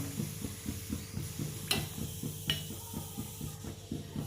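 Gentle, steady sizzling of Assamese coconut pitha frying in oil on a low gas flame, soft and continuous with a couple of light clicks, no voices.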